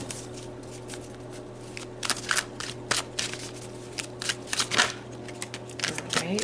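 Tarot cards being shuffled and pulled by hand, giving soft papery riffles and light snaps in scattered bursts, close and fairly quiet, with a steady low hum underneath.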